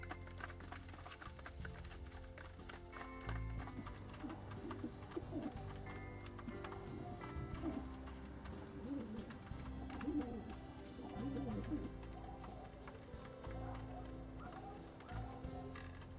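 Pigeons gathering at scattered grain and corn, cooing softly with wingbeats and scuffling steps, a steady busy bird soundscape at moderate level throughout, with no voices.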